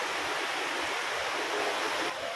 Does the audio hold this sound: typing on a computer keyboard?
no